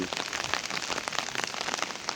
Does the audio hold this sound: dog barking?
no